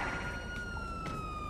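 An ambulance siren in the video game GTA V wails with a steady rising tone, moderately loud and continuous over a brief stretch, with no talking over it.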